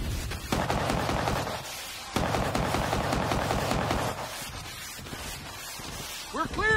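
Gunfire from the Xbox 360 game Battlefield: Bad Company, with dense bursts of rapid automatic shots in several long volleys and brief gaps, loud and close, with shouting voices mixed in.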